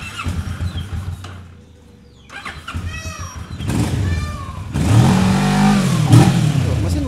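A stock Kawasaki ER6 motorcycle engine cranks and catches, then revs up loudly in rising surges, with some brief background noise early on.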